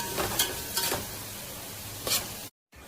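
Chopped onion sautéing in a hot pan until golden, with a steady close sizzle and a few louder bursts of stirring scrapes. A short silent gap comes near the end.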